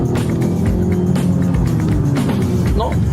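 BMW 430i being driven, a steady low engine hum and road rumble continuing throughout, with people talking over it.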